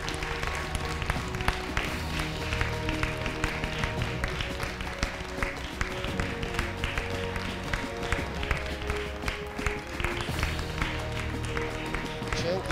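Sustained audience applause at the Miss Armenia 2021 final pageant for the Miss Photomodel winner, a dense steady patter of many clapping hands with music playing underneath throughout.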